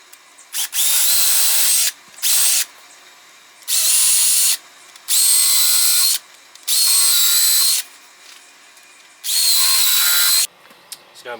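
A power drill drives zinc-coated screws in a series of five or six loud, close whirring bursts of a second or two each, separated by short pauses, with no talk.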